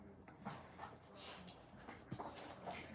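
Dogs whimpering and panting indoors, faint and intermittent, with soft whines and yips scattered across a few seconds.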